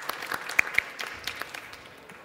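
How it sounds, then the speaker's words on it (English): A conference audience at European Development Days 2019 gives a round of applause: dense, steady clapping at moderate loudness for about two seconds, with sharper individual claps early on before it gradually thins. "I'd like you to join me in a round of applause for that fantastic team."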